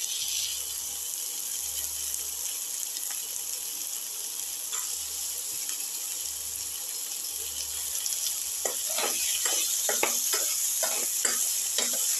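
Tomato pieces sauté in a pan with a steady broad sizzle, low intermittent rumbles underneath, and a run of quick stirring scrapes and clacks toward the end.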